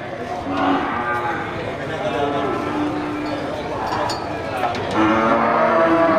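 Simmental cattle at a busy livestock market low repeatedly, the moos rising over a steady crowd murmur with people talking throughout.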